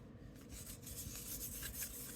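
Dry, crispy craft paper gives a soft continuous rubbing rasp, faint and close, with no voices.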